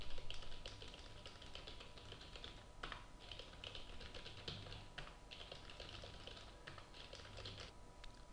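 Steady typing on a computer keyboard while entering text into a page in Adobe Illustrator, a continuous run of quick, close key clicks with brief pauses and no talking.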